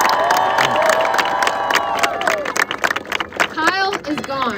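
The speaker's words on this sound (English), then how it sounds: "So give us a big round of applause for that." A protest crowd outside a university hall claps, cheers and whoops loudly, the dense applause thinning into scattered shouts and higher-pitched yells toward the end.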